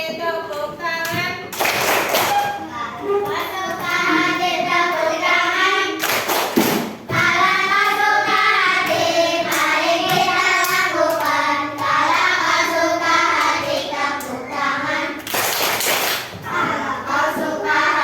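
Children clap their hands along to a sung tune, a few loud bursts of clapping rising between stretches of singing voices.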